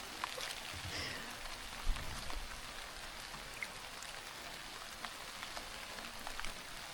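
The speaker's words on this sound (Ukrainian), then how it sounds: "Прям сильний дощ, вже калюжі." Steady heavy rain pours down, a dense continuous hiss with scattered drops pattering on surfaces nearby, no voices.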